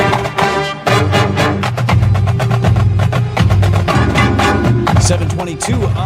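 Sun Prairie high school marching band plays a brisk piece, with sharp, regular drum hits driving under sustained brass chords. The sound is loud, full and continuous.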